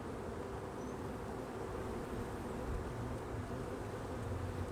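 A soft, steady hum of honeybees fills the background during a spring hive inspection, faint and unbroken, with no voices.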